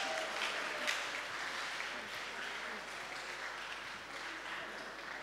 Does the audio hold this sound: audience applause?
yes